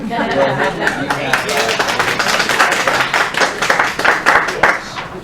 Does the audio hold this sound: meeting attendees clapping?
yes